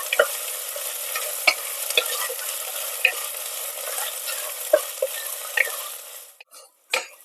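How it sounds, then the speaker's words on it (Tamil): Onions sautéing with ginger-garlic paste in oil for a Kayalpatnam mutton ahanikari, a close continuous sizzle broken by sharp spatula scrapes and stirring clicks, fading out near the end. "இப்போ வெங்காயம் கூட கொஞ்சம் சேர்த்து வதக்கிக்கலாம்"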